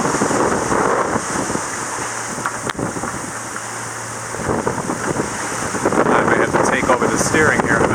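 Strong wind blows across a sailboat running downwind at about 24 knots off the Namib Desert coast. The roar is loud and continuous, with microphone buffeting, rushing water and a voice partly under it.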